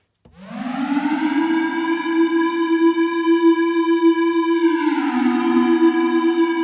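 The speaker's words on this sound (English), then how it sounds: "Yeah, siren." A synthesized siren made in Ableton Live rises quickly to a loud, steady wail, holds for several seconds, then dips slightly in pitch and keeps sounding.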